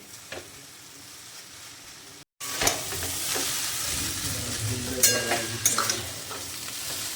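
Chowmein with salt, sugar and green chillies is stirred and fried in a pan, a steady loud sizzle with scraping and clattering stirs, following a brief cut near the start.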